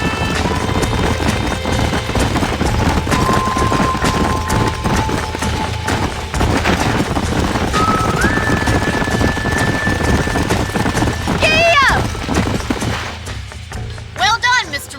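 Horses clip-clop and gallop in Red Dead Redemption, hooves thudding rapidly under a loud, busy game mix with tonal music, and voices talking over the hoofbeats throughout.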